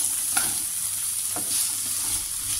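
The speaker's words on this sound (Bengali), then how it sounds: "বিট আর পেঁয়াজটা একটু ভেজে নেব।" Thin-sliced beetroot and onion frying in a pan with grated ginger, a soft steady sizzle broken by a few brief stirring scrapes, close and fairly quiet.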